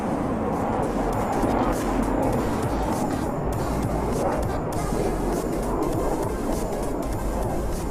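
An aerobatic aircraft flying a red eye turn at the Aero India air show, its engine a dense, continuous roar heard from a distance over crowd noise, steady in loudness with no break.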